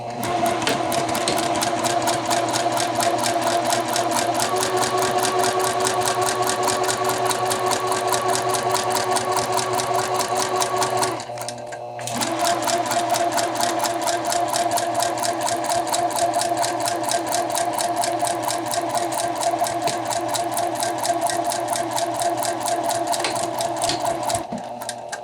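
A sewing machine stitches a half-inch seam allowance in fabric for bound buttonholes, with backtacking at each end. It gives a steady, close mechanical whir that stops briefly near the middle, then runs on at the same pace.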